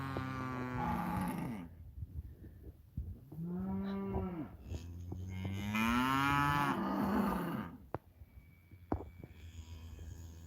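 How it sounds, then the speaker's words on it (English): Cattle moo repeatedly near a farm hay shed on a drizzly day, several long, loud, drawn-out calls one after another, close by and overlapping, with no talking. "Moo, moo, moo."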